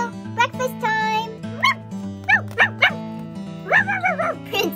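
Several dogs on a farm yap and bark in short, excited bursts, some whiny and high-pitched, over steady music playing throughout.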